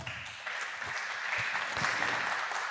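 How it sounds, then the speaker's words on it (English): Applause from a conference audience welcoming a speaker at SHA2017, a dense, steady patter of many hands clapping together and holding fairly even throughout. "So give him a warm applause for his talk."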